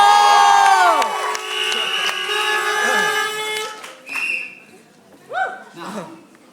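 Graduates at a school graduation ceremony cheer and shout loudly, high excited voices and whoops rising in a dense burst, then thinning into scattered yells and calls.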